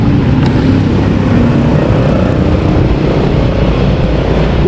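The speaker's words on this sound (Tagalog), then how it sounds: "So, lalabas na lang yung motor." A Yamaha motorcycle being ridden out of a repair shop after fuel-injection cleaning, loud close engine roar and rumble sustained throughout.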